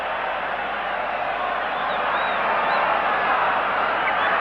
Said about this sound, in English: listen to the crowd when he gets up